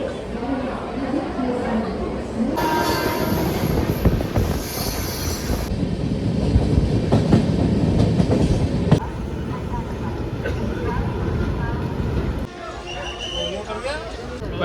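A moving BDTS HW Express 19019 passenger train, its steady rumble and rattling wheel noise carrying on throughout, with bursts of screeching, inside a crowded coach near Mathura where people chatter.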